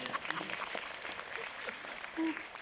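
An audience at a French-language stand-up comedy show applauds briefly, a soft, thin patter of clapping heard at a distance.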